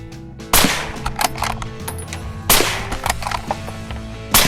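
Sharp suppressed gunshots from a Winchester XPR Stealth SR bolt-action rifle, two loud cracks spaced about two seconds apart with a third starting at the end, each trailing into a short echoing tail in an outdoor setting.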